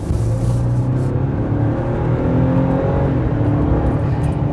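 A Ford Ranger pickup's 2.7-litre twin-turbo V6 engine revs steadily up close, a deep throaty drone with rising whir, no voices.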